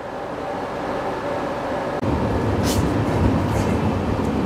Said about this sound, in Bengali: ট্রেন ছেড়ে দিচ্ছে